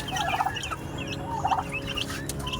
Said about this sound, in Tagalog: So, dito, apat sila na pabo.